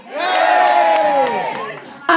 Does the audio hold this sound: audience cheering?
yes